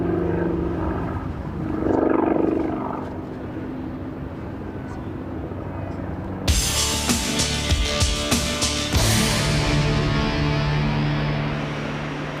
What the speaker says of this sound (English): Now this is a splendid demonstration of its power as it hangs literally like a helicopter